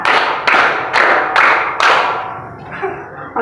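Five crisp, evenly spaced hand claps ring out in a classroom counting game, close and loud, each with a short decay, before the room settles into quiet.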